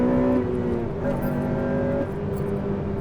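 A Honda Civic Type R engine hums under load with steady harmonic tones that shift in pitch as it pulls through the revs, heard from inside the car at a constant moderate level with no talking.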